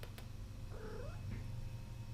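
Melo the cat at the vet, one short, faint meow rising and falling in the middle, with a couple of brief clicks at the start and a low background hum.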